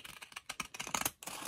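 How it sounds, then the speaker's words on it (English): Pinking shears snip off the end of a paper envelope in a quick run of close, crisp clicks and crunchy cuts, ending with one final snip after a brief pause. "I have just taken my pinking shears and I am going to take off a little bit off the end here."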